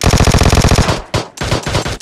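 Rapid automatic machine gun fire in the PUBG Mobile video game: a loud, fast, evenly spaced burst, a brief pause, then more shorter bursts, with no voices.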